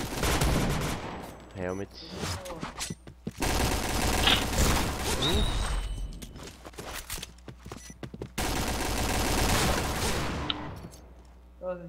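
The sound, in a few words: gunfire in a video game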